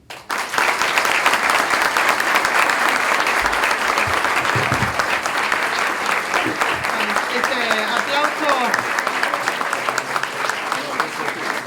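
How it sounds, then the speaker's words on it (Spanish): An audience applauds after a talk at a political science program, a dense sustained round of clapping that starts abruptly and stays loud, with a few voices faintly mixed in underneath. "Este aplauso refleja el agradecimiento"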